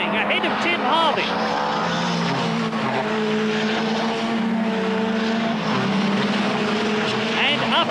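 Touring cars from the 1990 British Touring Car Championship round at Donington Park race past in 2-litre form, several engines droning and shifting pitch together, loud and continuous, with a commentator talking throughout.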